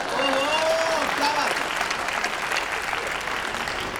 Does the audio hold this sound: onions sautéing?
no